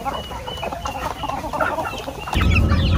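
Heritage laying hens cluck and murmur close by on a farm, a steady busy chatter of several birds with a louder burst of clucking near the end.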